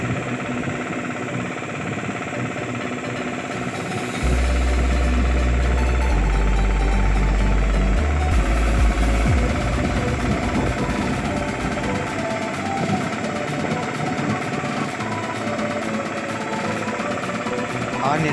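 A small nano tractor cultivator engine, built from scrap, runs steadily throughout, a droning mechanical rumble with some rattling, louder in the middle section, with no one speaking.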